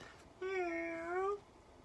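A person during a yoga session imitating a cat's meow with a single drawn-out, tonal voiced meow, close and clear against a quiet background.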